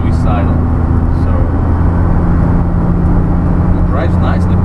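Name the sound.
1991 Daihatsu Atrai turbo kei mini van driving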